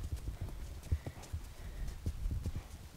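Horses shifting about inside a stable, hooves clip-clopping in a loose, irregular rhythm of thuds on the floor, fairly close and steady, with no talk over them.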